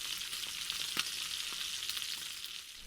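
Bacon sizzling in a pan, a continuous soft hiss scattered with small pops and crackles, moderately quiet and heard on its own.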